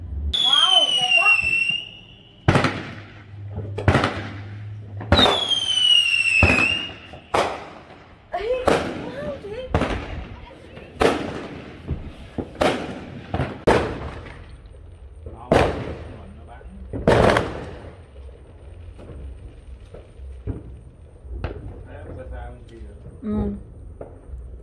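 Neighbourhood fireworks on US Independence Day: a series of sharp bangs and pops at irregular intervals, some preceded by whistling rising launches, loud and near with softer distant bursts between.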